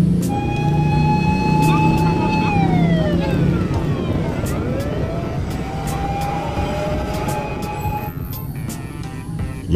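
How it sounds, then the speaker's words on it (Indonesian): A toy fire truck siren wails, its pitch sweeping up and down, alongside a continuous rumble and clatter of background noise. "Wih, di sini ada mobil pemadam kebakaran ya teman-teman."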